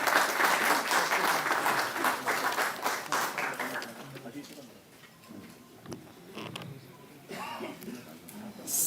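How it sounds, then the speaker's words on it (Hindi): Audience applause welcoming the Chief Minister of Delhi at a Delhi tourism app launch event: dense, loud clapping from a large crowd that gradually thins, then swells again near the end, with a few voices mixed in. "जोरदार तालियों से आप अभिनंदन।"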